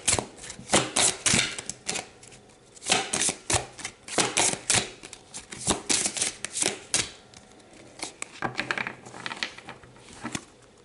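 Tarot cards are shuffled and drawn by hand, giving a close, steady run of crisp riffling and slapping flicks in uneven bursts across the whole stretch, with no voice over it.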